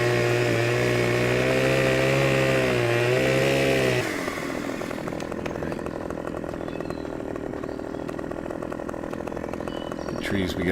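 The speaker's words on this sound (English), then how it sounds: "I hit one to get the chainsaw going" A video-game chainsaw revs loudly with a steady harmonic engine whine, then drops to a rougher, choppier cutting drone while trees are felled, running continuously throughout with talk over it.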